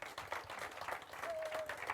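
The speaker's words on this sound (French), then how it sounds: "Est-ce qu'on peut les applaudir?" A church congregation applauds the musicians and cantors in a steady wash of clapping, with a brief whistle-like tone rising above it near the end.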